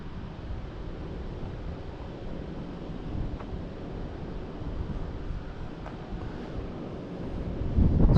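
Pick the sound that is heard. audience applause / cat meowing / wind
wind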